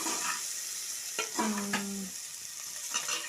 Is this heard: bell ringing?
no